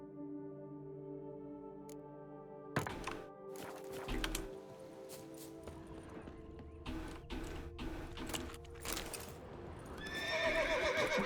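Roach, the horse in The Witcher 3, whinnies and snorts while hooves clop and thud on the ground, with a louder burst of neighing near the end against a quiet game backdrop.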